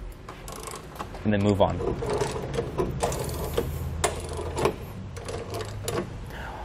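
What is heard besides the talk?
13 millimeter socket and wrench tightening nerf bar bolts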